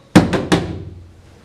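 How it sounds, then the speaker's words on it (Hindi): Three heavy thuds strike a door in quick succession, the first loudest, each with a short ringing decay, close and without speech; a vase is thrown against the door. "गुलदान मारा दरवाजे को उसने।"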